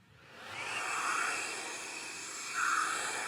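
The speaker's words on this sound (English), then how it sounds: "Let me use a hairdryer real quick." A steady, close hair dryer blows with a constant airy whoosh and hiss, its pitch swelling slightly twice as it moves.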